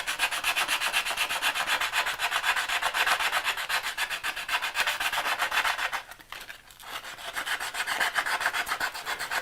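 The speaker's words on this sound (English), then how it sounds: "Got an old belt sander belt. And so I'm just going to wrap this around my finger." Rust being hand-sanded off a steel carving tool with a strip of belt-sander belt wrapped around a finger, a close, steady scratchy rubbing in quick regular back-and-forth strokes, pausing briefly partway through, with no talking.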